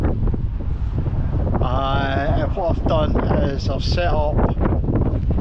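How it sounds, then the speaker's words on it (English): Strong wind at a campsite with a hot tent, a constant loud low roar buffeting the microphone, with someone talking over it partway through. "It's a very windy day,"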